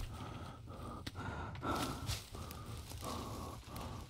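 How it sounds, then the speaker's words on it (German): Footsteps in the survival video game The Forest, a regular series of soft muffled thuds every half second or so over a low ambient rumble, with one brief louder burst partway through. "Ich höre Schritte."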